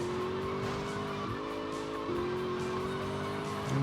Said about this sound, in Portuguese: Pneu do carro.